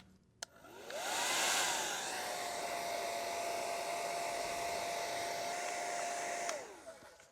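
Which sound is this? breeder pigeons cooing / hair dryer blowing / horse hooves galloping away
hair dryer blowing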